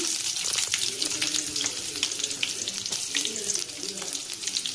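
Onion and bay leaf fry in hot oil with mustard seeds and cumin, a close, crackly sizzle with light stirring scrapes, continuous at moderate loudness.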